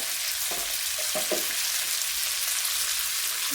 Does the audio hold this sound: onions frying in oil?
yes